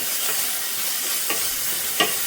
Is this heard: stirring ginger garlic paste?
yes